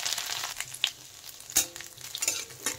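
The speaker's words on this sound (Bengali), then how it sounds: "তেল গরম হয়ে গেছে, এখন আমি দিয়ে দিচ্ছি গোটা জিরে, শুকনো লঙ্কা, থেঁতো করা আদা।" Whole cumin, dried chillies and crushed ginger frying in hot oil, a soft steady sizzle with a few sharp pops and stirring scrapes, close and fairly quiet.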